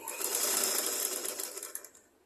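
A sewing machine runs steadily while stitching a skirt, giving a dense, close whirring buzz that holds for about two seconds and then slows and fades away at the end.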